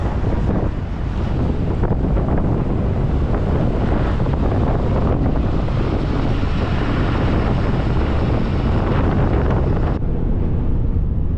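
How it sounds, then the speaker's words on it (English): Strong wind blasts over open water on the arm of Prince William Sound, with a loud, continuous roar of gusts buffeting the microphone. Waves wash beneath it until the roar eases near the end. "Wind is blowing pretty hard out here on the arm."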